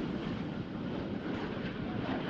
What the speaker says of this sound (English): With the F-35A and B model flying along with the F-22 during the air show